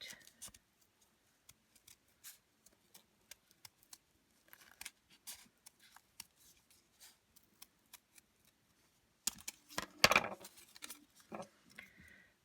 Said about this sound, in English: now we're going to take our scissors and cut that shape out